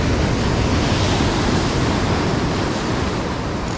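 A large ocean wave breaks on the shore, a loud continuous roaring wash of surf with wind noise on the microphone, close by and steady throughout with no speech.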